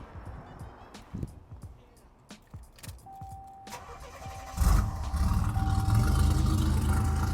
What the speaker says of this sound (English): Let me start it up for you so you can hear how awesome it is with the exhaust cut out.